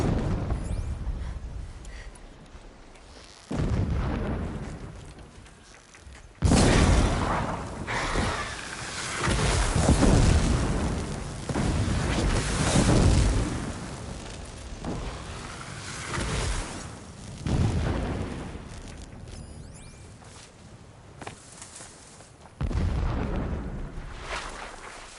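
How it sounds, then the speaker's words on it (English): Heavy explosions rumble in the distance within Horizon Zero Dawn Remastered, a series of loud, deep booms that swell and fade in waves over about twenty-five seconds, without talk. "Explosions in the distance."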